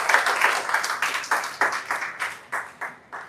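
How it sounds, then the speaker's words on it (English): Audience clapping at a live OQATA Wellness event, starting as a fast patter and then settling into slower, distinct rhythmic claps that fade between beats. "Let's clap for OQATA Wellness."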